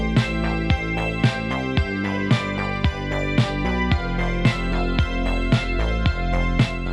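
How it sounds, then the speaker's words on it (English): Synthwave bass line in which the last note of every bar moves up to the third, looping in a steady pulsing pattern with punchy drum hits on each beat, loud and upfront with no talking. "Let's change the last note at the end of every bar to the third."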